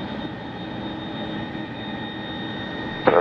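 A Lufthansa Airbus A340-600 jet taxiing after landing at Montreal airport, a steady moderate engine whine and rumble, continuous and unbroken, with a brief louder burst at the very end.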